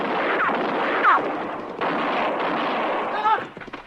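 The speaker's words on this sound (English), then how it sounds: "But he was shooting mighty close." Old West gunfire in a radio drama, loud, booming shots and a short burst of firing over a rumbling, crackling background, with a brief voice near the end.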